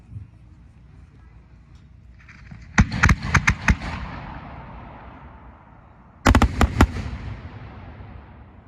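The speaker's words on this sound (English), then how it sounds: "it's a flight of 4-inch Lampari" Flight of 4-inch Lampari fireworks shells bursting into fireballs at a fireworks festival, two clusters of four or five sharp loud booms each, separated by a few seconds, with crackling decay and a faint launch hiss.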